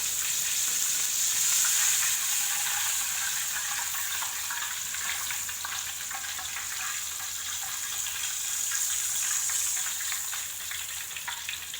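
Tuna pieces lightly coated in flour fry in hot oil, giving a steady close sizzle and crackle that runs unbroken throughout with no talking.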